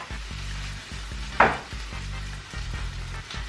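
Food sizzles and fries in a pan in the background, faint and steady, with a brief sharp clatter partway through and music playing over it.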